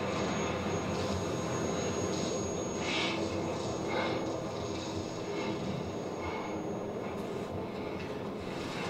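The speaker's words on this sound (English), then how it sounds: "Here it comes. The rest of us should be in this chopper." A helicopter arrives in the video game The Division at Camp Hudson, its engine and rotors a loud, steady roar with a rising whine and rhythmic chopping throughout.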